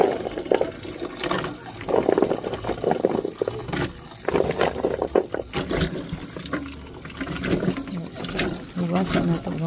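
Native peanuts being washed in water, with splashing and swishing of liquid running through most of the stretch alongside frequent talking nearby.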